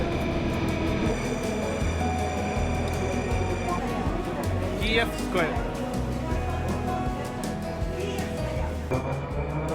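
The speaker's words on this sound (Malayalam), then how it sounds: "നമുക്ക് പോകേണ്ട ട്രെയിൻ വരുന്നുണ്ട്" A Moscow metro train rumbles in along the platform, a heavy continuous roar with a brief metallic squeal midway, voices faintly mixed into the din.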